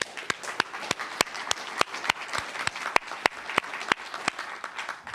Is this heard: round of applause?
yes